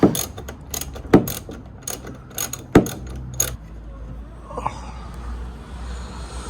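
Sharp metallic ratcheting clicks and clanks of a wrench working loose a locking nut on a van, in irregular bursts up close, then quieter handling and rustling.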